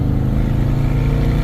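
The engine of a 1971 Dodge Polara with a carburettor needing adjustment, running as a loud, close, low rumble that wavers slightly as it stumbles toward stalling.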